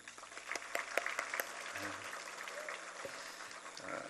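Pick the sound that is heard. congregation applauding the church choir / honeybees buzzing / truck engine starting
congregation applauding the church choir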